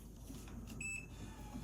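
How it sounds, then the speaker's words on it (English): An ELINK smart drawer lock gives a short, faint electronic beep, a single brief tone heard alone over a quiet room background. "There's the beep."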